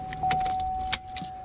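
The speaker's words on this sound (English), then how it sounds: "Pull the lever back, the key comes out." Keys jangle and rattle close up in a stuck Chevy ignition, with quick metallic clinks over a steady tone from the car.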